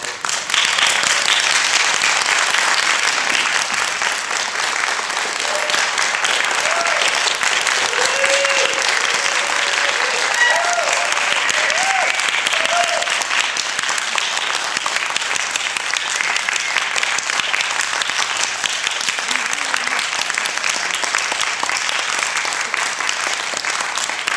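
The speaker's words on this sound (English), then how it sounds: "will you acknowledge them with a strong round of applause?" Award winners at a student Shakespeare Awards ceremony receive sustained audience applause, a long, even roar of many hands clapping that holds steady throughout, with a few faint voices underneath.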